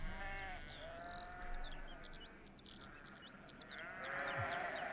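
Sheep bleat in wavering cries within a song, with birds chirping high above throughout; fairly quiet and steady.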